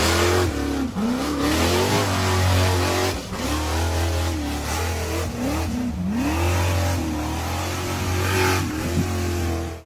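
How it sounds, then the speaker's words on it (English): A white steel-frame off-road buggy accelerates hard up a steep dirt and rock slope, its engine revving loudly and close in repeated rising and falling surges, with brief dips between pulls. "The white buggy named Rowdy was accelerating hard up a steep dirt and rock slope."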